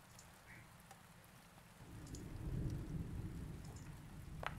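A storm from tabletop game software, with rain hissing steadily and a low rumble of thunder swelling about halfway through and rolling on, loud and close, with no one talking.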